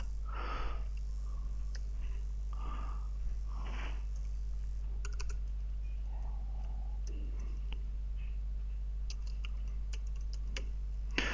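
Computer keyboard typing commands into the Windows command line, heard as soft, scattered key clicks that cluster more densely in the second half, over a faint steady hum.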